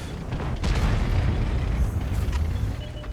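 A T-10 heavy tank's cannon in World of Tanks fires a deep, loud boom that rolls into sustained low rumble and battle noise.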